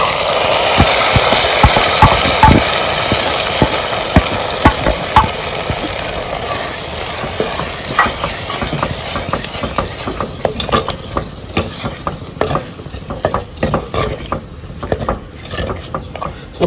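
Dal and tomato fry and get stirred in a pan for an Andhra-style thali, a loud close sizzle layered with frequent scraping and clacking of a spoon against the pan, the sizzle easing as the stirring clicks continue.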